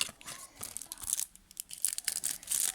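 A trading card pack torn open by hand, with close crinkling and ripping foil or paper wrapper in short irregular bursts, fairly loud and crisp, with no speech over it.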